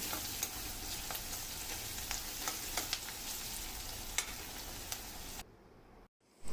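Salted masala for prawn curry sizzles steadily in a pan while it is stirred, with repeated sharp scrapes over the frying hiss before the sound drops away near the end.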